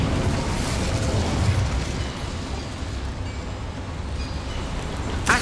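A fiery Incendio spell bursts out in Hogwarts Legacy, a loud, dense roaring whoosh of flame that holds steady for several seconds, with a sharp crackle at the very end.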